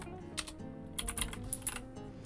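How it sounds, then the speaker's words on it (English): Computer keyboard typing heard up close: a quick, uneven run of soft key clicks in small bursts, with no talking over it. "Why am I having such a hard time typing?"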